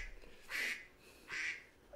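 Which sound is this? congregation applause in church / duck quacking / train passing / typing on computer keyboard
duck quacking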